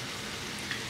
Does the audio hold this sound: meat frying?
yes